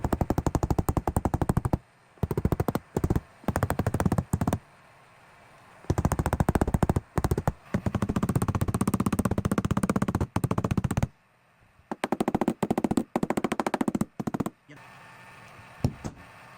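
Sharp, rapid tapping on the bodyline of a new Camaro during paintless dent repair, knocking down high spots in dense bursts separated by short pauses, loud and close.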